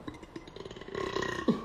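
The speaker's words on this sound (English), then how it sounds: "Woof, that was a big burp." A single loud, deep burp rolls out near the end after a stretch of low background noise, close and brief.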